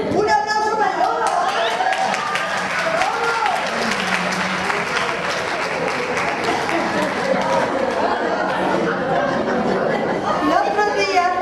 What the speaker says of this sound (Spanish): ¡Un aplauso para el lobo!